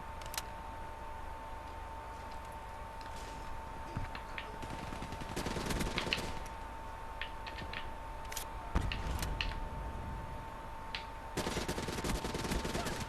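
Weapon fire in the first-person shooter Black Ops 3 on Xbox One, bursts of rapid shots and sharp single cracks scattered through steady game background noise.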